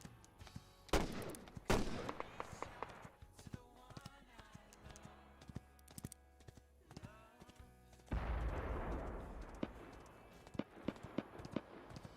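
Gunfire cracks repeatedly in the Wild West battle royale game Grit, with sharp single shots and quick clusters spread irregularly across the clip, some loud and close, others softer, alongside brief noisy rushes.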